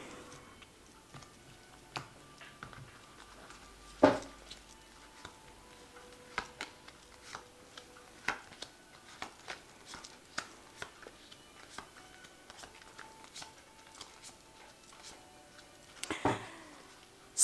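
A tarot deck is cut and handled, producing quiet, irregular card taps and clicks with a few louder snaps, close and soft against a near-silent room.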